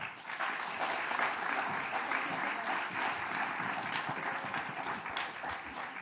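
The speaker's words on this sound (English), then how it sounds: "please welcome her with me with a round of applause now" A conference audience applauds to welcome a speaker, a sustained, even roar of many hands clapping at moderate distance.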